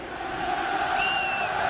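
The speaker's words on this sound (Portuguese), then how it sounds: "A torcida do Corinthians faz a parte dela, o time tomou gol, a torcida grita" Corinthians fans roar and shout across a football stadium during the 2001 Copa do Brasil final against Grêmio, a massed, distant-sounding crowd din holding steady, with a brief high wail rising above it midway.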